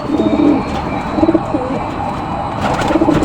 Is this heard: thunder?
no